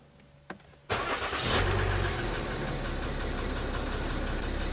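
A car engine is started during a technical inspection: a short click, then the starter catches and the engine fires up into a steady, fairly loud idle that continues to the end.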